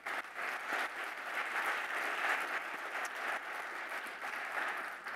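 Steady applause from a crowd at a trade show demo stage, sustained and even throughout, with no speech over it.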